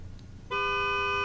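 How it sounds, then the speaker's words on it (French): A Honda S2000 horn in Forza Horizon 3 sounds one sustained, steady honk that begins abruptly after a half-second of quiet and holds to the end. "dans la S2000, klaxonnez s'il vous plaît"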